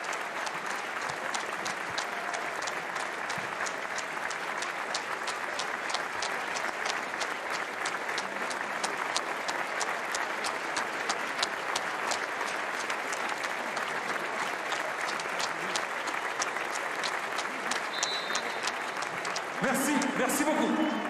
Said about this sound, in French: la minute d'applaudissement pour toutes les victimes du Covid et pour tous ceux et celles qui étaient au front ces derniers mois